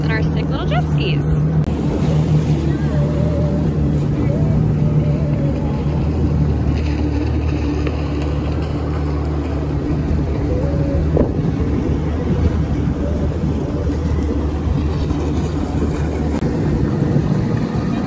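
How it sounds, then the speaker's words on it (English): A jet ski engine drones steadily as it runs across open water off Miami, the motor noise blended with heavy wind buffeting throughout. "just out here on a jet ski in Miami"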